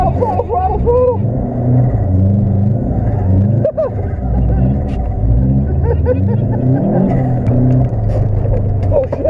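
A snowmobile engine stuck at full throttle roars loudly and continuously with rumbling harmonics, under excited voices talking over it outdoors in winter.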